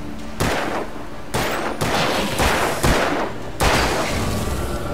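Repeated gunshots in the Alan Wake video game, about four heavy blasts spaced roughly a second apart, each loud and near with a booming tail, no talk over them.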